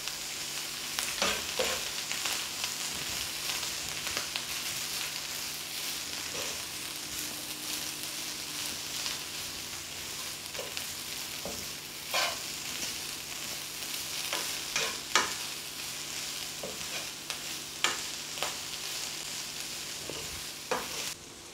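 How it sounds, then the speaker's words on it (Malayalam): Drumstick leaves frying in a pan for thoran, a steady hiss of sizzling oil with soft scraping stir strokes repeating throughout, close and even. "ഇനി നമുക്കിത് നല്ലതുപോലെ ഒന്ന് ഇളക്കി കൊടുക്കാം."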